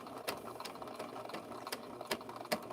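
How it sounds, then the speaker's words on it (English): A sewing machine with a large nose stitches a rope handbag, giving a steady mechanical whirr with sharp periodic clicks and knocks, close and moderately loud, with no voices. "I did a couple rows to get this one started on this sewing machine"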